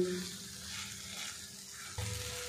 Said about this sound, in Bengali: পাঁপড়টা মশলার সাথে বেশ কিছুক্ষণ নাড়াচাড়া করে নেব